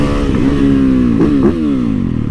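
A cruiser motorcycle engine pulls hard under acceleration, a loud close rumbling drone whose pitch climbs, dips briefly at a shift around the middle, then rises again.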